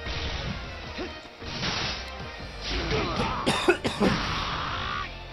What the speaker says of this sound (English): It gave me a chance to look away and cough.